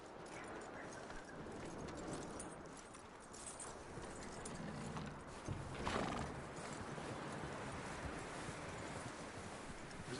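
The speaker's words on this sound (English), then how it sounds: "That looks like a decent horse" A horse in Red Dead Redemption 2 gallops in a steady, faint rumble of hoofbeats under wind-like noise, with one brief neigh partway through.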